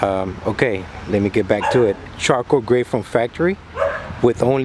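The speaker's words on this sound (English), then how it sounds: "please excuse the dog barking in the background" A dog barks and yips in the background while someone talks steadily over it, describing a charcoal gray 2010 Crown Victoria Police Interceptor for sale.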